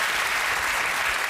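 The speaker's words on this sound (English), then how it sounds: "One clap for Rob." An audience breaks into applause, a thick, even burst of clapping that fills the whole moment without letting up.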